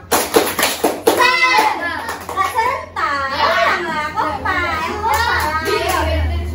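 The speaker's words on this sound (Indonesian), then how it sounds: "Yuk kita tepuk semangat sama-sama ya." A group of children chants together in a classroom-style tepuk semangat routine, their voices rising and falling in a rhythmic call with a few sharp hand claps early on, lively and close.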